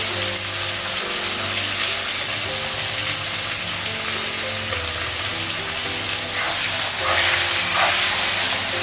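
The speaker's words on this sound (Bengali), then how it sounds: "টমেটো দেবো, পেঁয়াজটা দেবো," Tomato and onion fry in a pan, sending up a loud, steady sizzle and hiss that swells and grows rougher near the end.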